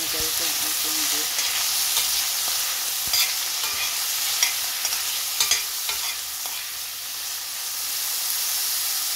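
Beef frying in hot oil in a pan makes a loud, continuous sizzle and hiss close up, with a few sharp crackles and stirring knocks.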